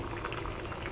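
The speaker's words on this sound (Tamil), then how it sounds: "இப்போ பாருங்கள், சாம்பார் நல்லா கொதிக்குது." Spinach sambar bubbling at a steady boil in a pot, a dense continuous burble of popping bubbles heard up close without any voices.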